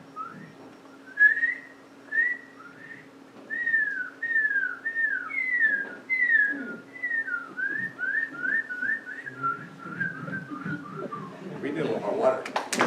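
A person whistles an imitation of the northern cardinal's song: a series of clear, slurred whistled phrases, repeated and speeding into quick trills, recorded indoors at moderate level, with some shuffling near the end.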